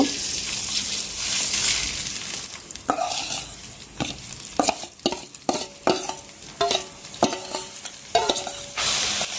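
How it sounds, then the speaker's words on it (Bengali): Rice stir-fried in lightly heated oil in a wok, with an irregular run of sharp spatula scrapes and clinks over a steady sizzle, close up and loud, no speech. "তো আমি কিন্তু চালটা ভাজা শুরু করে দিছি আর অনেক সুন্দর একটা গন্ধ ছাড়ছে"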